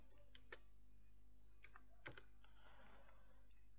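Faint keystrokes on a computer keyboard, a few scattered clicks then a brief quicker run of typing, quiet and close over a steady low hum.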